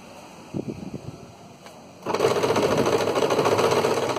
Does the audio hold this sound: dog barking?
no